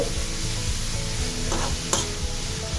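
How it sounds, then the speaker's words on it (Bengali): Grated carrots in ghee are stirred in a pan, producing a steady close sizzle with repeated soft scraping strokes and a brief clink of utensil on metal. "যেহেতু ঘিয়ে প্রথমে আমি দিতে ভুলে গিয়েছিলাম, তো এখন একটু নেড়ে চেড়ে নিচ্ছি।"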